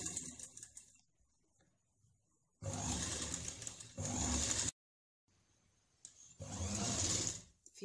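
Sewing machine stitching a lined blouse: two loud bursts of steady mechanical running separated by pauses and quiet gaps, with the motor whirring at close range and no talking.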